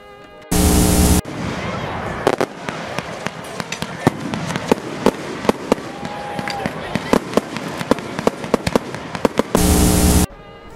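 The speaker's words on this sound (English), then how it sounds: "I went to free mode and all I hear is explosions" Fireworks exploding in GTA 5 Online free mode during an Independence Day event: a long string of sharp pops and cracks at irregular intervals, some near and loud, framed by short bursts of harsh static at the start and end.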